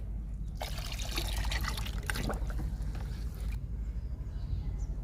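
Homemade pomegranate liquid fertilizer poured onto flowering potted plants, a steady close trickle and splash of liquid running for about three seconds over a low background rumble.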